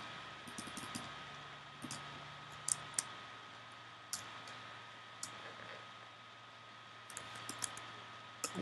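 A domain name being typed on a computer keyboard, giving sparse, light key clicks spread irregularly over several seconds above a steady fan-like hum in a quiet room.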